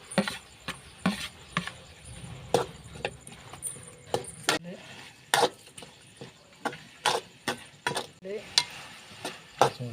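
Chilli chicken sauce with tomato and shallots hitting hot oil, a low sizzle punctuated by frequent sharp clacks of a spoon against the pan in an uneven rhythm, nearby and without speech.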